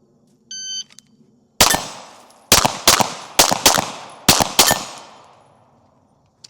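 Sharp rifle shots ring out at an outdoor range where targets are hard to hit, several loud reports in quick pairs and singles, each trailing a long echo, after a short electronic beep.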